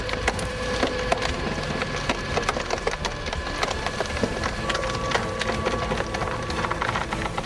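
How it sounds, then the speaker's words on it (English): An industrial hydraulic log splitter, working frozen timber in winter, forces through the wood with a continuous loud crackling and splintering, dense woody cracks and creaks over a steady low machine rumble, with no voices. "That industrial log splitter keeps pushing through frozen timber without slowing down."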